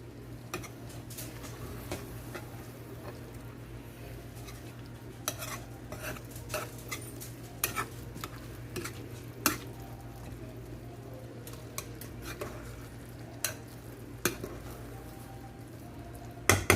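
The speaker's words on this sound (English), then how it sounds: "that we toss the rice" Rice with pigeon peas being tossed in a pot, with scattered light scraping and clinking of a utensil against the pot over a steady low hum, fairly quiet throughout.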